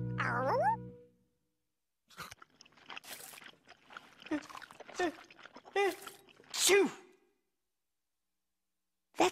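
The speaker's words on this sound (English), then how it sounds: "That's one big sneeze." One sharp, loud sneeze from a dog bursts out near the start, followed by quiet, then rustling, crunchy sounds of cereal and brief squeaky vocal noises.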